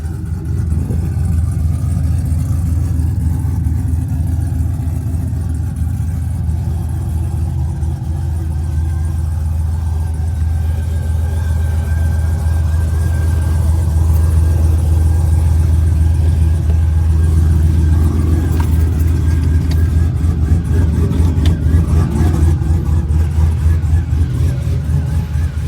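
A cammed 2008 Chevrolet Silverado with headers and a Magnaflow exhaust rumbles with a loud, choppy idle close by, with a few revs rising and falling over the steady lope and no talking.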